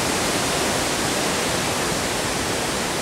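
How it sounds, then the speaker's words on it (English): Strong wind rushes through trees during a storm on Mount Keira, a steady, dense roar of broadband noise with no pauses and no voices over it. "But you can hear that wind, right?"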